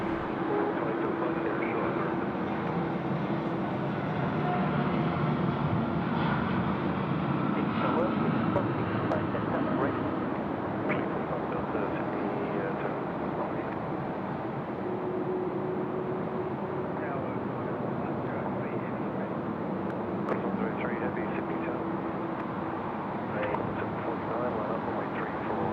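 An All Nippon Airways airliner rolls for takeoff at night at Sydney Airport, a sustained distant engine roar lasting the whole stretch while someone talks over it.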